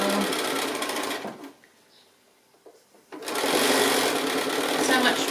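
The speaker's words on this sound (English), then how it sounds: "And then I'm just going to stitch all the way along" Sewing machine stitching a quilted gift bag made from leftover quilt blocks, a steady loud whir running continuously, pausing briefly in the middle before starting up again at full speed.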